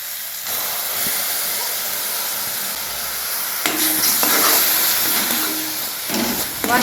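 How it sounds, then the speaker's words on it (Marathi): Ginger-garlic paste and ground masala paste sizzle and hiss steadily in hot oil while being stirred for a spicy soybean curry, with scraping spoon strokes breaking through the continuous frying noise. "याला छान असं तेलातून भाजून घ्यायचं।"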